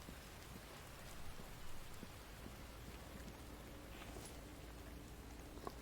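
Heavy rain pours steadily in the survival video game The Infected, a dense, continuous hiss of drops drumming on surfaces that holds at a constant level with no voices over it.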